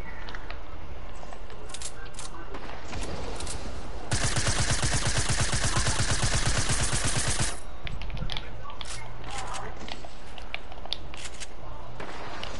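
Rapid automatic gunfire in Fortnite, a dense burst of shots lasting a few seconds in the middle, with quieter game sounds and scattered shots before and after.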